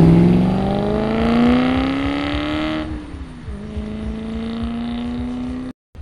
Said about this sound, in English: we've got a little Stinger and the beautiful RS3 pulling out here